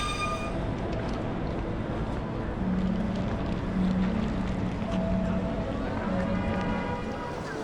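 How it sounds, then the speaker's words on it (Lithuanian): A Paris metro train at an old-style station, its steady rumble and rolling noise filling the whole stretch with a faint tonal whine rising and falling. "Ir atvažiuoja mūsų metro."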